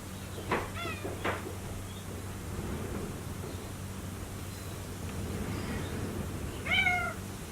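A cat meows several times, a couple of short calls early and a louder one near the end, over a low steady background hum.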